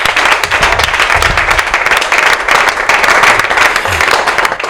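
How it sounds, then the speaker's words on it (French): Audience at a comedy and theatre event in Lubumbashi applauding a company director, a loud sustained wash of clapping with a steady crowd murmur, no distinct speech. "nous demandons au public de pouvoir applaudir"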